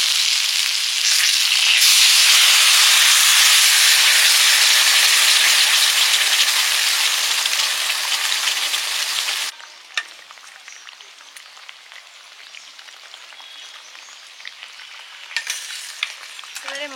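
Ground cumin, coriander, mustard and dried chilli paste mixed with water hits a hot pan with a loud, dense sizzle that settles into a quieter, crackling simmer after about nine seconds.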